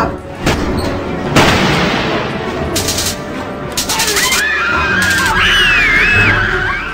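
People screaming in a horror film, shrill overlapping cries over loud booming, gunfire-like bursts and chaotic noise, with high wavering screams rising toward the end.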